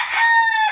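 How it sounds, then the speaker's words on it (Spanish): A single rooster crow rings out close and loud, a bright harmonic call held steady and then tapering off. "Este es una bestia de gallo."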